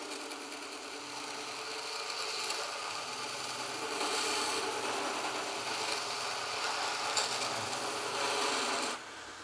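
A Vevor 30x1 belt sander with a coarse 100-grit belt and 3/4 horsepower motor grinds 12 mm thick steel, a continuous harsh abrasive rasp that swells in the middle and eases off near the end, with no talking.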